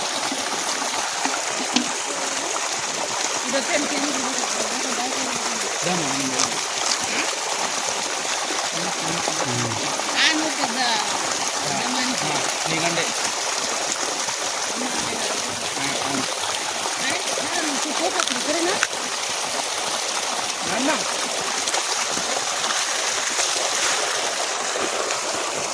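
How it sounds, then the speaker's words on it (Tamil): Water runs steadily from a dug well in a steady, rushing trickle that lasts throughout, with faint voices and low murmurs underneath. "இதுலேருந்து தண்ணி வந்து எடுக்கிறாங்க"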